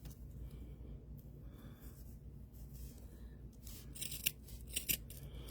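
Scissors cutting corkscrew curls of doll hair, a few faint crisp snips late in the clip over a quiet low hum, close and soft.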